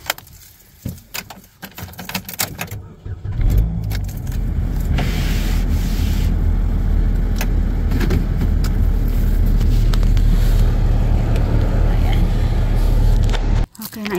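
A car engine idles and runs steadily as the vehicle is driven in, a loud continuous low hum that starts after some clattering and cuts off near the end, with people talking around it.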